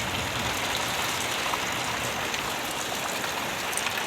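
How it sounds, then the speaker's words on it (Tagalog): Steady, dense rainfall hisses continuously and close by, an even wash of drops with no pauses or voices. "Grabing ulan, lakas ang ulan."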